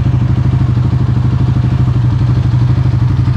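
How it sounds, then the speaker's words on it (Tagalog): A 2023 Suzuki Raider FI 150 motorcycle with a six-speed transmission idles up close, its engine giving a steady, loud, rapid thumping pulse with a mechanical clatter that runs without a break for the whole stretch. "ilalapit ko yung camera para mapapakinggan ninyo ng maayos yung galawan at andaran ng ating Raider"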